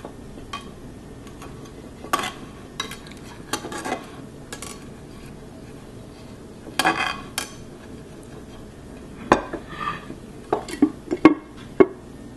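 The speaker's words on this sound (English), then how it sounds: "Now let's slice acorn jelly." A knife slices acorn jelly (dotorimuk) on a cutting board, with irregular soft thuds and taps spread across the clip over quiet background hiss.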